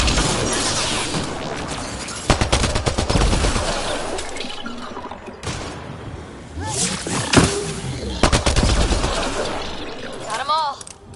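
Bursts of video game gunfire, rapid fusillades and sharp shots in clusters separated by quieter stretches, with roaring creature-like growls and a speaking voice mixed in between the volleys.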